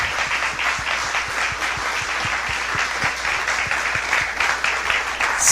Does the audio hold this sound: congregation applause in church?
yes